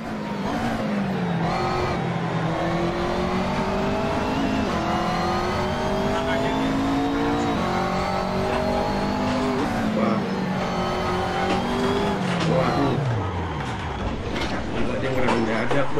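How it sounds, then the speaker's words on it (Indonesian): A racing video game car's engine revs steadily throughout, its pitch rising through the gears before a sudden drop that fits a collision with another racer, while a person talks over the game sound. "gue tabrakan sama pembalap yang tadi ada di posisi ke-6"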